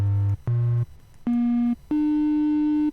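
Four separate synthesizer tones, octave lowered, sound one after another, each a steady buzzy note held briefly with short gaps, stepping in pitch, loud and alone.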